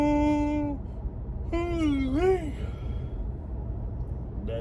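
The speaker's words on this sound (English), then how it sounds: "There's one of many yawns to come." A person yawns while driving, a long drawn-out voiced yawn with a falling pitch, a pause, then a second rising-and-falling yawn sound, close and fairly loud over steady car interior noise.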